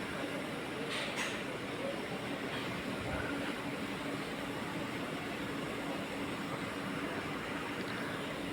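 A train stands at a railway platform, a steady low rumbling hum with a faint background wash and no clear speech, continuous and fairly quiet throughout.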